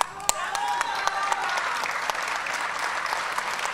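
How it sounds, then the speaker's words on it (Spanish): A crowd applauds steadily, dense clapping from many hands filling the space, with a few sharper individual claps standing out near the start. "Aquí el aplauso no es de todos"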